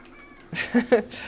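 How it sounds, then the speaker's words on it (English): A domestic cat meows a few times at close range, short faint calls rising over a quiet indoor room with brief background voices nearby. "but he is meowing."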